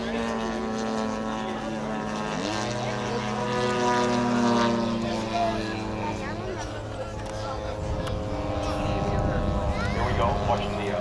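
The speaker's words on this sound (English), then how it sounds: "watching the biplane pull up" Radio-controlled model biplane flying at an RC airshow, its propeller engine droning steadily and shifting in pitch as it pulls up, with a second engine tone layered underneath. The sound is moderately loud and continuous, and people talk over it.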